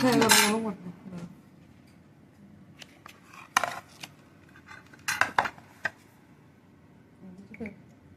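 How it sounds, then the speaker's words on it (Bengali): A knife slices into a freshly baked, still-hot cake, giving soft clinks and scrapes against the pan or plate in a few short bursts amid quiet kitchen background, with people talking briefly. "এখন কেটে দেখবো ভিতরটা কিরকম হয়েছে"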